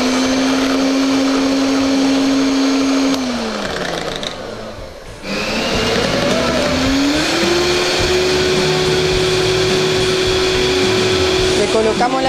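Electric hand mixer beating egg yolks for a lemon sponge cake, a loud steady motor whine that dips and drops in pitch midway, then rises again and holds as it runs on.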